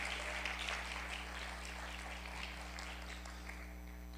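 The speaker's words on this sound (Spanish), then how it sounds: "¿Por qué le damos un fuerte aplauso a nuestro Señor?" A congregation at a church service claps together in a steady, even burst of applause, moderately distant over a constant low electrical hum.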